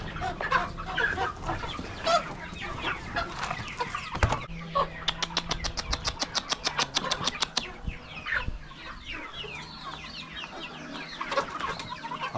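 Dwarf Australorp hens clucking on a farm, busy overlapping calls with a quick rhythmic burst of clucks in the middle, fairly close and loud.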